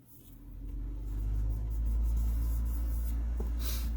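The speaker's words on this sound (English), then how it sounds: "My heater just came on. If you hear humming in the background" A low, steady hum with a faint whoosh builds up and holds constant, like a heater running nearby, with no talking.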